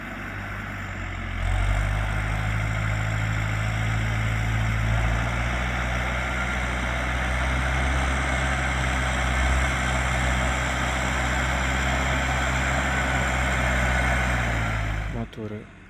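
A New Holland TL 100 tractor of about 100 horsepower ploughing with a Vogel & Noot FH L800 plough, its diesel engine giving a loud, steady low drone that holds constant before cutting off abruptly at the end.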